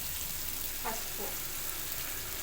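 Onions fry in oil after turmeric is added for an egg curry, a soft, even sizzle with a couple of brief stirring scrapes, quiet and close.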